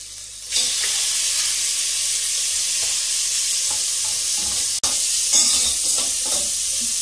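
Meat sizzles steadily in a hot pan while it is stirred, with a constant frying hiss and occasional scraping clinks from the utensil, in a village kitchen.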